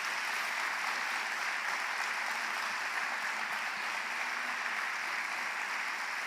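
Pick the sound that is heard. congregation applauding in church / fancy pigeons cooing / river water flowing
congregation applauding in church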